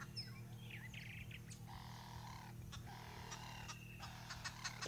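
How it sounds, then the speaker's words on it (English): Green wood hoopoes cackle in a sunrise bush chorus at Sabi Sand, South Africa, a faint run of rapid chattering calls mixed with other birds over a low background hum. "You can hear the green wood hoopoes start their cackling."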